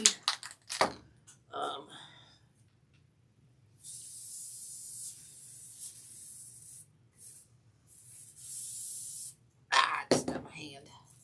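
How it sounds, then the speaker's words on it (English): Gorilla Glue spray adhesive hisses from a can in a light, continuous spray lasting several seconds, with a few short breaks. Close handling clatter and rustling come before and after it. "I just sprayed it kind of lightly with this Gorilla Glue"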